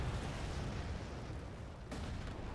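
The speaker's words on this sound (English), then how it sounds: "Executing strike plan. Missiles away." An ICBM launches in a strategy video game, producing a dense, low roaring rumble that stays loud and steady for a few seconds. A brief burst lands near the end, and nobody speaks.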